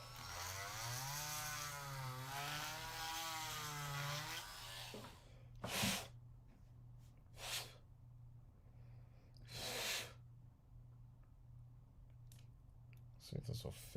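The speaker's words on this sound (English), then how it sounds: "I'm gonna Dremel this a little more." A Dremel rotary tool grinds with a high whine that rises and falls in pitch for several seconds. Brief louder bursts and pauses follow, and faint voices can be heard in the background.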